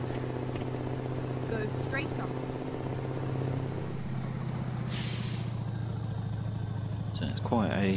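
A Kenworth truck with a 610-horsepower Mack E3 engine drives in Euro Truck Simulator 2, a steady low engine drone with a sharp hiss of air brakes midway.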